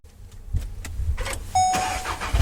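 A Volkswagen Golf R fitted with an aFe performance air filter idles nearby, its engine rumbling low and steady, with a brief whine partway through and a louder rise at the end.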